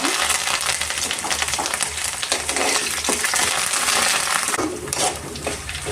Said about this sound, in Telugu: పచ్చిమిర్చి కూడా వేగినాయి కాబట్టి ఇప్పుడు కరివేపాకు వేసుకున్నాము